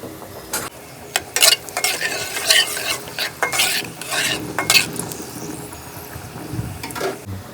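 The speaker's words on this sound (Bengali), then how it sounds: "কুচি করা রসুন, এখন এগুলোকে ভেজে নিব" Chopped garlic and broken dried chillies fry in hot mustard oil in a kadai, a crackling sizzle broken by loud scraping strokes of a spoon stirring against the pan, close and uneven, with no talk.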